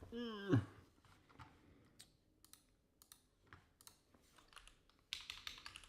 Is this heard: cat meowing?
no